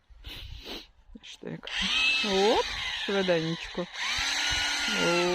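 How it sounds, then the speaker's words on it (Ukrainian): A hammer drill boring planting holes in garden soil for seedlings, its motor whining and rising in pitch as it revs up and down in loud bursts, with a brief spoken word at the start. "У когось бурий перфоратор на будівництві, а в когось на городі."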